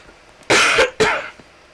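Two sharp, close coughs follow each other quickly, loud and throaty, then give way to quiet.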